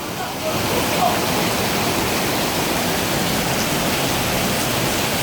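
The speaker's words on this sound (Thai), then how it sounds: "นี่ครับอย่างนี้ครับฝนตกหนัก" Heavy monsoon rain pours down outside Surin railway station, a loud, steady, dense hiss of rainfall that never lets up.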